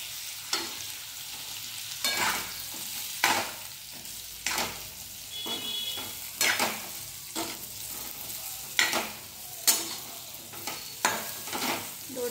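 A paste of coriander, ginger, garlic and coconut fries in oil with ridge gourd for a Marathi bhaji. A soft, steady sizzle is broken by a series of sharp spoon scrapes and clinks against the pan.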